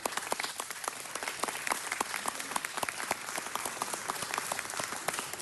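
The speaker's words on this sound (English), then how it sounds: "certainly a round of applause" Steady round of applause from the audience at a Los Angeles City Council presentation honoring fire heroes, many hands clapping in a dense, continuous wash with crisp individual claps poking through, moderately loud throughout.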